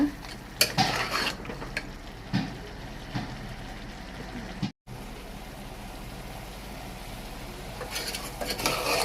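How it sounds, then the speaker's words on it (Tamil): A spoon stirs masala into a pot of mutton curry with scattered metallic scrapes and clinks over a low frying hiss and one brief dropout. "அந்த மசாலா ஆட் பண்ண உடனே நல்லா கிளறி விட்டுக்கோங்க"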